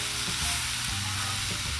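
Steady, dense sizzling of steak and mushrooms frying on a 22-inch Blackstone griddle, a continuous loud hiss heard up close with faint scraping underneath and no voices.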